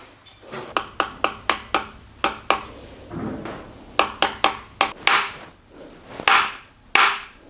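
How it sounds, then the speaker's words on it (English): Hand-tightened bolts on an engine timing assembly, fitted along with the oil pump, give a close series of about a dozen sharp metallic clicks and taps in quick bursts, separated by short pauses and light handling rustle. "I'm just gonna go ahead and hand tighten these guys."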